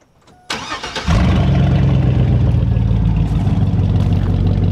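A Chevy Bubble Eye truck engine cranks briefly, then catches and settles into a loud, steady, close idle with slight revving, without any voices.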